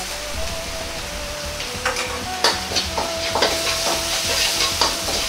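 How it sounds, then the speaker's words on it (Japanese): Garlic and ginger stir-fry in oil with doubanjiang, a close, continuous sizzle broken by the scrape and clatter of a spatula stirring the pan. "ニンニク生姜も入れ炒めます"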